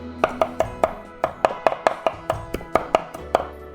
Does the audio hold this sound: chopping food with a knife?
yes